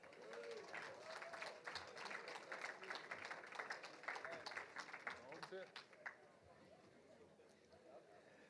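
A ring ceremony crowd applauds the Ferris State University football team, 2024 Division II national champions, with a steady, distant-sounding wash of clapping that fades away after about six seconds.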